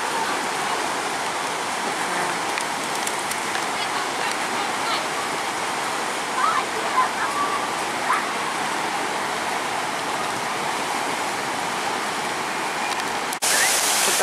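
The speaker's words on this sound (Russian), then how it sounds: "Дети прям в фонтане прыгают, скачут." Water from a public square fountain splashes in a constant hissing wash where children jump and play, with faint voices and scattered splashes in the steady roar.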